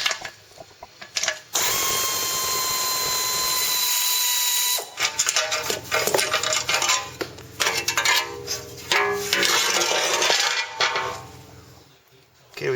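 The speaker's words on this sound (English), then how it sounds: "we've got to remove the base pan, and we're just going to use a 12mm socket" A ratchet fitted with a 12mm socket backs out base pan bolts, its close, crisp clicking coming in several quick bursts separated by short pauses.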